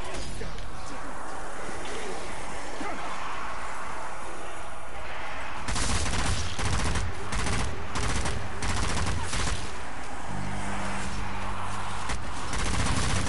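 Zombie Army 4 game gunfire as a zombie shoots: dense, loud bursts of rapid firing crackle through the second half, under a noisy battle background with some voices.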